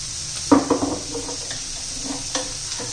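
Ground masala stirred into sizzling capsicum in a pan: a burst of spoon clinks and scraping at first, then a softer sizzle with a couple more light stirring knocks, close by.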